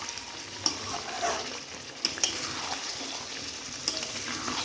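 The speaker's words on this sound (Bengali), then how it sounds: "একটু নেড়ে দিব।" Potato and chicken curry with ground spice paste being stirred and fried in a pan, a steady moderate sizzle with occasional sharp spatula scrapes and clicks.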